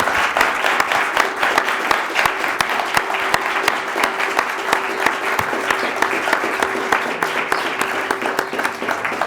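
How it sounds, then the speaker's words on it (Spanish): A seated audience gives a lecturer a long, loud ovation, dense continuous clapping with crisp individual hand claps sustained evenly throughout, no talking heard. "el ponente se merece un gran aplauso por nuestra parte"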